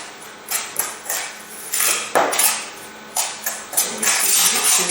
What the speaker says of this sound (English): Then we should add it to the soil and mix it very well as we did for the control soil.